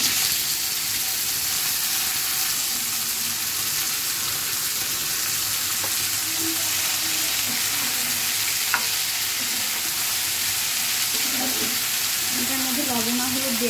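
Vegetables seasoned with salt and turmeric sizzle and fry steadily in a pan in a home kitchen, with occasional stirring clinks and a voice talking faintly in the background.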